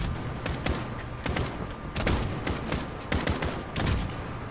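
Rapid bursts of automatic gunfire from the Call of Duty Modern Warfare campaign, dense overlapping shots in clustered volleys throughout, loud and close with no talk.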